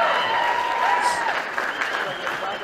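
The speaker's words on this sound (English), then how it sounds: "The clapping is hurting my ears." A crowd claps steadily at a victory speech, the dense applause filling the whole stretch while a voice talks over it.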